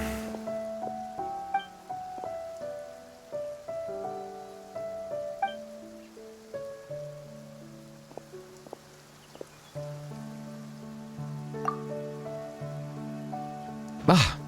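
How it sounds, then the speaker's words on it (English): Steady heavy rain in the video game Genshin Impact hisses softly beneath a gentle, slow melodic tune, with no talking. "Taking a stroll in the middle of a downpour certainly rouses the spirit."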